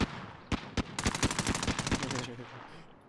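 Rapid video game gunfire rattles out as a quick burst of sharp, close shots, a couple of single cracks followed by a fast automatic string, with faint excited voices underneath.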